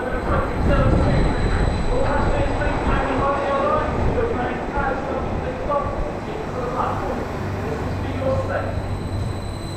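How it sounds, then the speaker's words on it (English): A Class 755 electric passenger train rolls into a platform at Ipswich with a steady low rumble and rattling, while a voice talks over the station noise. "Right, arriving now is 755-329. This is our delayed 11:20 service to Cambridge."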